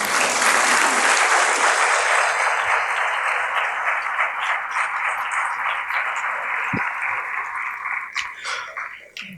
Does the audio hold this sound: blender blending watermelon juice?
no